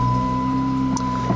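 Just after a push-button start, the 3.6-liter Pentastar V6 in a 2013 Dodge Challenger settles into a smooth, even idle: a steady low hum with a faint tonal whine, close by and without talk.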